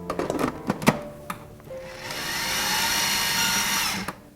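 An electric mixer blends ginger cookie dough, starting with a few clicks and bumps, then whirring steadily for about two seconds before cutting off.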